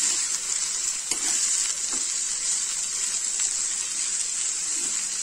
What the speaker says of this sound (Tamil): கீரை ஓரளவுக்கு வதங்கிருக்கு